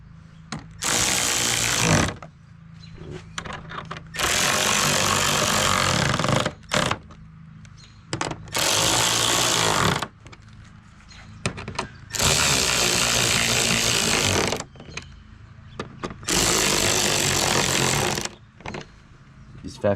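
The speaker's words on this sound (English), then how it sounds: "now it's time for us to tighten up all the screws together" Power tool driving and tightening screws on a high-wing spoiler of a 2022 C8, whirring in several loud close bursts of a couple of seconds each, with quieter gaps of handling noise between them.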